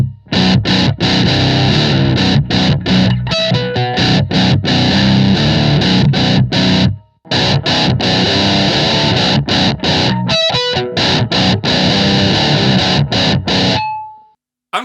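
An electric guitar plays through a Blackstar ID:Core 40 V4 amp on an overdrive setting, with loud, dense distorted chords in choppy strummed bursts, a brief pause midway, then a final ringing note that cuts off.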